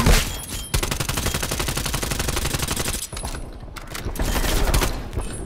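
Call of Duty gunfire rattles out in long, rapid automatic bursts. It is loud and close, with a brief gap around the three-second mark before more shots resume.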